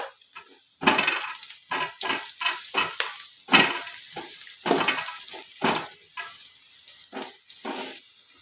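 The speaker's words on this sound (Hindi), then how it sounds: "नमक डालने से प्याज जल्दी से ब्राउन कलर में हो जाएगी।" Onions with salt frying in a pan for spicy murmura chivda, a continuous crackling sizzle swelling in repeated bursts as they are stirred, close and fairly loud with no speech.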